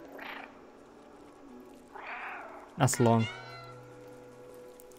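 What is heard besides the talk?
cat meowing in a video game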